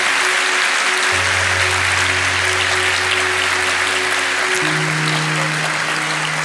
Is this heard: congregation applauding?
yes